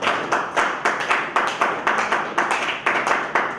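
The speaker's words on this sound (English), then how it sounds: "Please a round of applause." An awards-ceremony audience claps for a presenter in rhythmic unison, loud crisp beats roughly every third of a second, steady and close.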